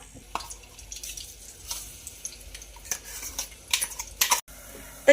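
Masala sizzles softly in oil as it is stirred in a pan for a chicken curry, with scraping spoon strokes and a few sharper clatters of utensils against metal.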